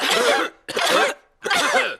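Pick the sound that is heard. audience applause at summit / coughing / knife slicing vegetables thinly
coughing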